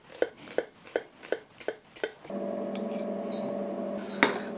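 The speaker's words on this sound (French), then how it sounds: "Tout d'abord, nous allons ciseler l'oignon." A knife finely chopping an onion on a board, seven or eight evenly spaced close taps, then a steady hum with a faint clink at the end.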